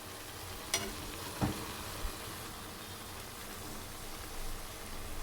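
Drumstick flowers frying in a pan and being stirred, a steady soft sizzle with a few sharp scrapes of the spoon early on, no talking.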